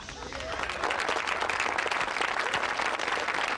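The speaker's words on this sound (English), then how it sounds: "please hold your applause until the end" Steady applause from a crowd, a dense wash of clapping that holds at an even level throughout.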